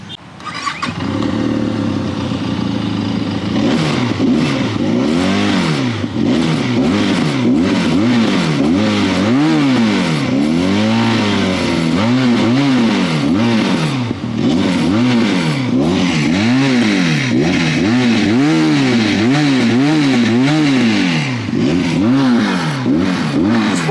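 A Benelli 502C inline-twin motorcycle engine revs repeatedly, rising and falling in quick rhythmic bursts over a steady idle, loud and close throughout.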